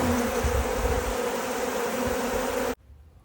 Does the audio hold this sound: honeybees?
yes